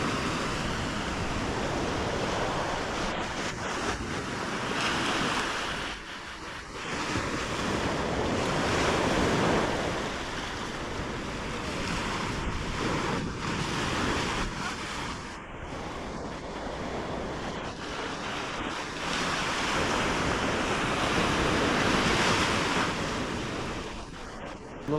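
Ocean surf breaks on a beach in calm morning weather, a continuous roar of waves with gusts of wind buffeting the microphone, rising and falling in long swells.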